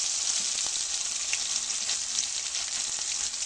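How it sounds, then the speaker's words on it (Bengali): Cumin and garlic paste sizzling loudly in hot oil for fish curry, a dense, continuous frying hiss close up with no voices. "এই তেলের মধ্যে আমি দিয়ে দেবো জিরা বাটা রসুন বাটা"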